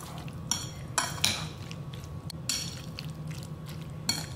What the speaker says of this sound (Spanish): Se revuelve muy bien.